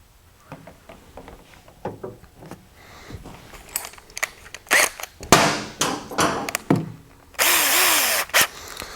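Short bursts of a power drill whirring into a headlight housing to drill pilot holes for set screws, several separate runs with pauses and handling clicks between, ending in a longer steady drilling burst.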